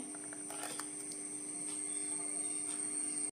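A mixer grinder blending rice flour batter whirs in a steady, high-pitched motor whine, running continuously and close by for the whole stretch, with no talking.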